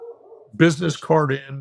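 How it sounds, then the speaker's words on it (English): A dog barks in the background, a couple of sharp yelping barks with a whimpering edge, while someone talks over it. "I apologize for that dog barking in the back"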